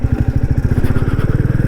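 A Royal Enfield Classic 350 motorcycle engine runs close up with a steady, rapid, low thumping pulse, like a single cylinder at idle. No voices are heard.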